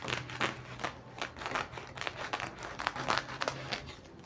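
Crisp, papery snips of scissors cutting close by while making a shaggy rug, coming in quick irregular bursts with small rustles between them.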